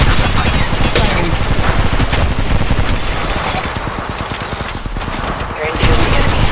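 Automatic weapons fire rattles without pause in an Apex Legends Mobile match, loud continuous bursts layered with game sound effects and an announcer-style voice.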